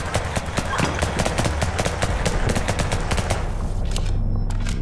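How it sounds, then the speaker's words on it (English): Rapid, evenly spaced gunshots from the game Liberated ring out loud and close, firing continuously before cutting off near the end into a low hum. "So I guess let's just shoot down there"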